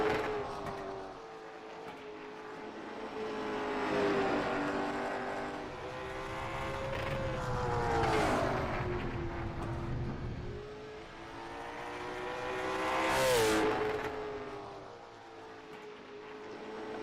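Race cars lap a short track in iRacing, engines swelling and fading in repeated waves as they rev through corners, a continuous mid-level drone with occasional sharper surges.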